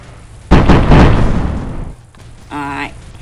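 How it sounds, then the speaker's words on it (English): Rocket explosion in the mech combat game Mech Wars, a loud booming blast that rumbles for over a second and then fades, followed by a short tonal mechanical whine. "Rocket's coming in"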